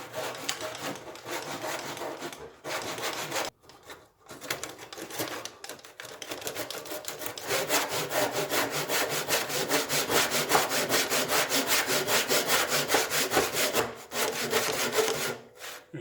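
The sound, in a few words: back saw cutting wood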